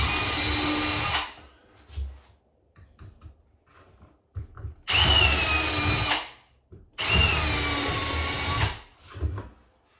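A power drill whines loudly in three bursts of one to two seconds each, separated by quieter handling noises and clatter.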